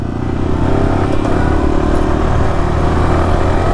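Yamaha R15 V4 motorcycles fitted with loud aftermarket exhausts ride off together at night, a close, steady, loud engine drone with rough exhaust rumble holding throughout.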